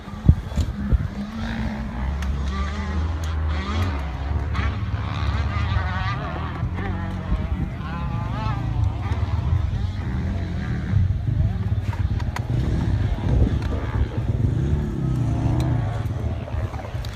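A stock factory motorcycle engine on sand drones and revs continuously, with a low rumbling motor sound and people talking over it.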